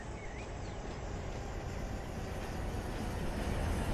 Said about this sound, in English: Hey, here's your Z train.